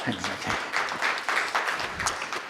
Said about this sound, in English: A round of applause for Mark, please.